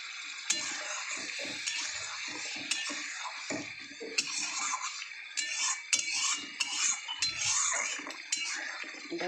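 Spice masala being stirred with a little water in a pan while cooking a mushroom dish, a steady wet sizzle with repeated scraping strokes of a spoon against the pan, close and fairly loud, with no talking.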